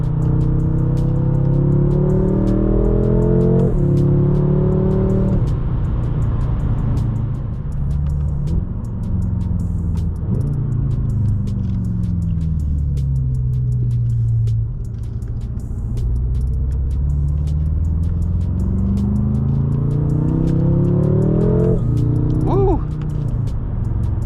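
A 675 hp BMW M5 accelerates hard on a snowy road in 29-degree weather, its engine droning loudly throughout as pitch climbs through repeated gear pulls, with someone talking over the noise.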